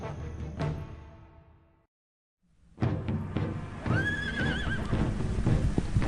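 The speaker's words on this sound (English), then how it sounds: "In the dead of night, a group of mercenaries on horseback, led by Foulam, swiftly cross the grasslands" Horses ridden by a band of mercenaries crossing grassland at night in a radio drama: a sharp whinny and hoof clatter, a brief silence, then a burst of galloping hooves and a loud, wavering neigh over continuous close, busy movement.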